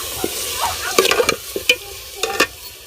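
Potatoes with spices fry in a pan, a soft sizzle broken by several sharp spoon scrapes and clatters of stirring, close by and irregular in rhythm.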